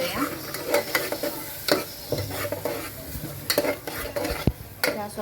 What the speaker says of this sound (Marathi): काश्मीरी लाल मसाला आणि आपला गरम मसाला. चांगलं मिक्स करून घेऊया